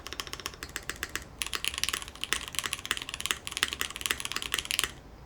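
Rapid typing on a TOFU Redux V2 mechanical keyboard, a close, crisp run of clacking keystrokes in quick bursts with a brief pause near the start and another midway, no voices.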